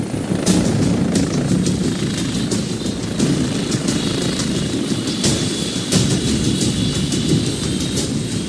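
A SAMU medical helicopter comes in to land on a busy summer beach at Argelès, its rotor roaring loud and steady with a dense, continuous thrum throughout.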